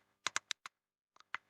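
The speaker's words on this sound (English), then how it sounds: "I type access" Sharp keystrokes on a computer keyboard, a quick burst of four taps followed after a pause by three more, close and clear with no talking.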